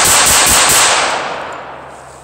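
Gunfire crackles in a loud, rapid burst of shots for about a second, then trails off into a fading echo with no talking.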